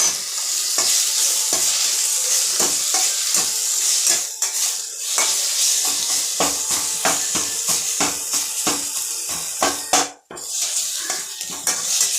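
Balloon vine (mudakathan) greens being sautéed in a pan for rasam: steady close sizzling and frying hiss with frequent scraping and stirring strokes against the pan, continuing throughout with no talk.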